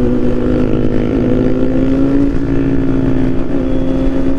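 A Kawasaki Z900 motorcycle on a group ride hums with a steady, loud engine drone at cruising speed, with a slight pitch shift midway, mixed with wind rush and no voices.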